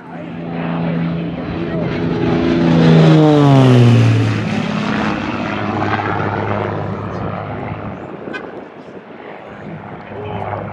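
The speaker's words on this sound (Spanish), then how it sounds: "Un helicóptero." A Bell 407 helicopter flies past at a civil aviation fair, its rotor and turbine drone loud and close, swelling to a peak with a falling pitch sweep before settling into a steady hum as people talk in the background.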